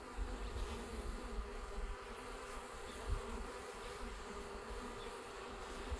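Honey bees swarm around a hive in a dense, continuous buzz at moderate level, with individual insects droning closer now and then over the steady hum.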